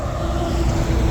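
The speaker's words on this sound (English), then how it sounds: "Excuse the road noise." Road traffic beside a chain-link fence line, heard as a brief, steady low rumble with a wind-like wash and no distinct passing vehicle.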